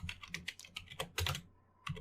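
Code is typed on a computer keyboard as bursts of quick, close key clacks, ending in a short pause and then a final pair of keystrokes.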